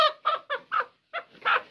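An Aseel chicken clucks in a run of short, throaty calls with a brief pause midway, close and fairly loud, no talking.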